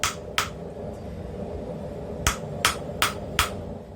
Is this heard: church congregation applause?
no